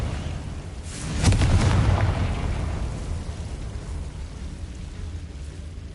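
A Confringo spell explosion in Hogwarts Legacy, a sudden muffled boom that swells and rolls off into a lingering low rumble before settling into a quiet background.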